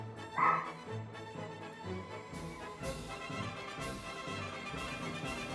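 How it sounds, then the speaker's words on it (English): A female pet dog in a home yips and whimpers in the background, the sounds mixed into a steady bed of background music or noise at moderate loudness. "Dog barking in the background."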